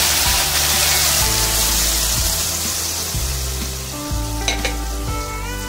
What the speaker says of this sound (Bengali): এটাকে আমরা ভালোভাবে নেড়েচেড়ে কষিয়ে নেব